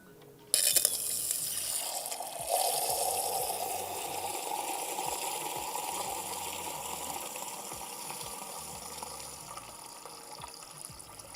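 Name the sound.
measuring out and pouring water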